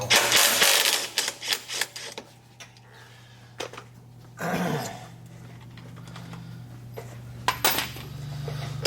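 Metal clanks and ringing taps of a bolt being undone and a gauge wheel pulled from a 1775 planter, irregular knocks close by, with a short scraping stretch partway through and no talking.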